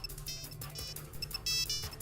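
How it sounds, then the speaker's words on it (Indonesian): A telephone rings with a repeating electronic tone in short bursts, moderately loud over a low background hum, no voices. "Nggak lama, telepon saya berbunyi."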